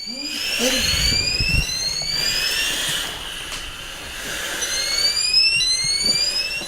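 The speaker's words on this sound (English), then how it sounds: "Something sets off the detector." A chemical detector alarm sounds at a chemical laboratory facility, its rising electronic tones repeating steadily over a loud rumbling background hum.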